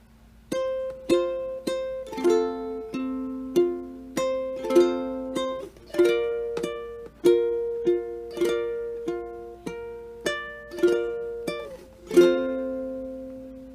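A ukulele is played fingerstyle, plucked notes ringing out in a gentle melody of How Great Thou Art with occasional chords, clear and close.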